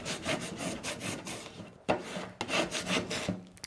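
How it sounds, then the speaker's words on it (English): A vinyl sign being burnished, with a squeegee rubbed firmly over the sheet in quick repeated scraping strokes, close and fairly loud, with a few brief pauses and no talking. "Apply it down, burnish."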